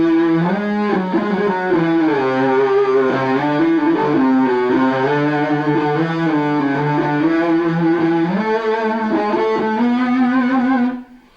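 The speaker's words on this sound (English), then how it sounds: "I was using a phase pedal then, yeah, which is one of the effects which I do like to use on stage" A Red Special electric guitar run through a phaser pedal into an amplifier, producing a sustained, cello-like singing tone with slowly shifting sweeps, loud and continuous for about eleven seconds before cutting off.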